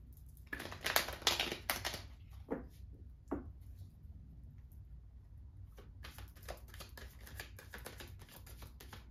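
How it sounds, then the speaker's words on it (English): Tarot cards being shuffled by hand during a full moon reading, a run of dry papery riffles and flicks in bursts at the start, then quiet, then a longer stretch of rapid crisp card snaps close to the microphone. "let me just shuffle these"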